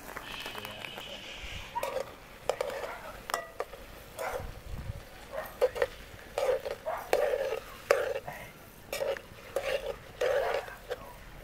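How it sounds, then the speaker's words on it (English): A spoon stirs sugar into a coconut drops mixture in a pot, giving repeated short scrapes and clinks in an irregular rhythm, close and moderately loud, with faint whispered talk in the background. "I throw your sugar while I stir"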